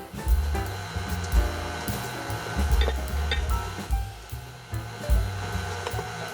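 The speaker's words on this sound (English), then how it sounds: "With the mixer running, we're gonna add our flour mixture." An electric mixer runs in cookie dough for oatmeal chocolate chip cookies as flour mixture goes in a quarter cup at a time. A steady motor whir carries repeated low thumps and light clinks from the bowl throughout.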